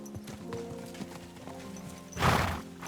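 Horse hooves clop in a steady trotting rhythm while riding in Kingdom Come Deliverance 2 video game, with a brief whinny or louder rush of sound near the end.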